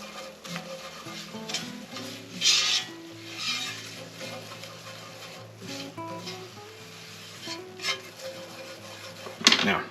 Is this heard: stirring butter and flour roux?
yes